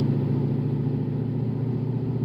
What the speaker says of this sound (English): I'm like revving it up and I have no gear